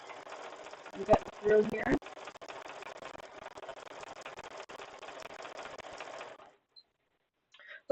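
A home sewing machine with a quarter-inch presser foot stitches jelly roll fabric strips, a steady mechanical whirr running for several seconds with brief louder bumps, a voice talking over it before it stops.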